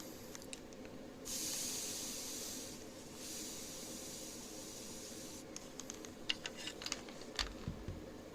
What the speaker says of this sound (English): Apply the steam.